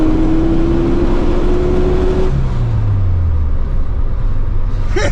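A 1973 VW Super Beetle's air-cooled engine revs loudly up close, its pitch holding high and then dropping away into a deep, rough idle rumble.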